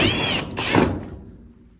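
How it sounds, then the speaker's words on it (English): A power drill drives a screw to secure the lid of a GE electric dryer during a drum glide repair, giving a short whirring burst that winds down to quiet within about two seconds. "you can just take your screwdriver or your drill and pop it into place"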